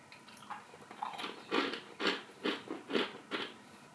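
Crisp crunching from chewing dry, brittle cranberry almond cereal flakes, several bites in a steady rhythm, close and fairly quiet, with no talking.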